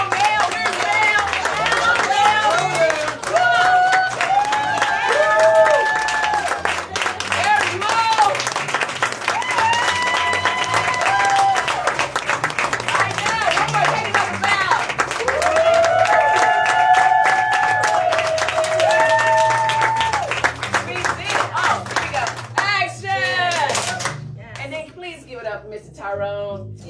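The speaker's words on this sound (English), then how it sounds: "can you please give these storytellers a round of applause?" A crowd at a storytelling event claps and cheers for the storytellers, sustained loud applause with whoops under a speaking voice and melodic tones, fading out near the end.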